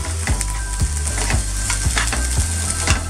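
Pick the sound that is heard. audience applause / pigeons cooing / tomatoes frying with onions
tomatoes frying with onions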